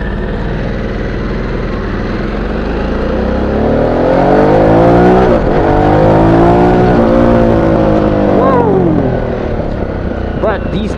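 Harley-Davidson Sportster S cruiser with a tuned V-twin engine, heard while riding: a loud, steady engine drone with rising and falling revs as it accelerates and shifts, under wind noise and a talking voice.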